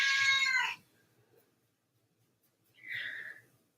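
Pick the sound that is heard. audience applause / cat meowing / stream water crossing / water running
cat meowing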